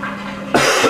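A single sharp cough bursts out partway through, loud and close, after a stretch of quiet washing machine hum.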